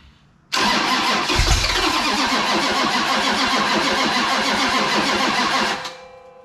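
A 440 V8 engine with a six-pack carburetor setup cranks steadily and loudly with a rapid rhythmic churn for about five seconds, then stops without catching.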